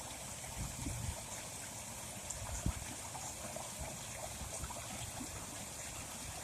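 A creek swollen by a week of heavy rain runs beside a small pool, giving a faint, steady wash of flowing and trickling water with no voices.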